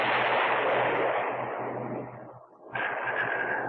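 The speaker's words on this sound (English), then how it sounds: "The firing of the 24 rocket salvos was conducted throughout the speed and altitude range of the F-102A" A Convair F-102A firing a rocket salvo, a loud sustained roaring whoosh that fades, dips briefly, then surges again as a dense broadband rush, heard from an old military film without talk.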